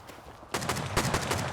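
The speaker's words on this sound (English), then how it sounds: "We have more gunfire from the outside." A quiet stretch gives way to a rapid burst of gunfire during a raid in the video game Rust, with sharp cracks repeating in quick succession at moderate loudness.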